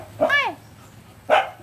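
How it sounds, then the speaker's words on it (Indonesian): Dog barking during an outing with pet dogs: two short, sharp yelping barks roughly a second apart, the first with a sliding whiny pitch, close by over a low background hum. "Jangan gonggong."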